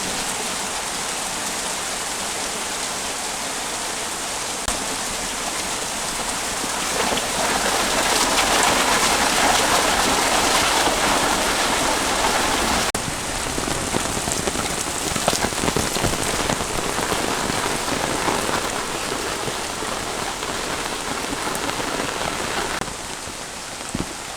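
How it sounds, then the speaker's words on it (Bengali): Sudden heavy rain in a village pours steadily, a dense broadband hiss of drops drumming on surfaces, loud and close throughout with no voices. "মানে এত বৃষ্টি হঠাৎ থেকে নামছে"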